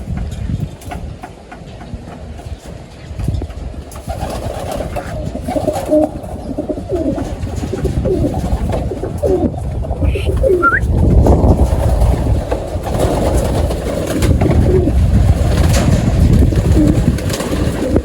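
Racing pigeons coo in a loft, a steady low murmur of overlapping calls with a few brief higher chirps, fairly close and continuous throughout.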